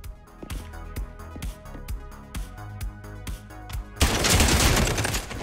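Machine gun fire in the tactical shooter game Spectre Divide, a rhythmic string of about a dozen evenly spaced loud shots, then a dense sustained burst of gunfire near the end.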